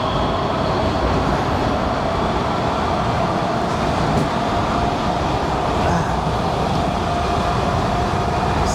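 A Washington Metro subway train rolls along with a loud, steady rumble and rattle, a continuous roar of wheels on track with no talking.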